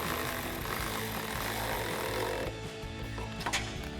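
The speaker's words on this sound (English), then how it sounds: "then we're going to take a 13mm socket." A 13mm socket ratchet tightens a side step bar bolt on a Jeep Wrangler JL, giving a rapid, close clicking pawl rhythm that stops partway, followed by a couple of faint metallic taps.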